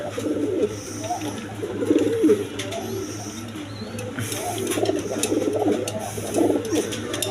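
A pair of yellow Danish pigeons with three red bars coo repeatedly in low, rolling phrases, fairly close, over a steady low hum with faint chirps above.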